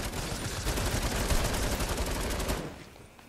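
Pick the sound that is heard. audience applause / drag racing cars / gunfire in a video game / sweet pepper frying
gunfire in a video game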